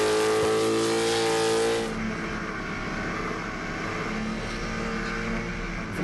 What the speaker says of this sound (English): Another carburetted blown car this time.